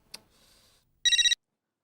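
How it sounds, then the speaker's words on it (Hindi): A short electronic telephone ring, one trilling burst of rapid pulses after a faint click and a brief quiet stretch, close and fairly loud. "उमाताई का फोन?"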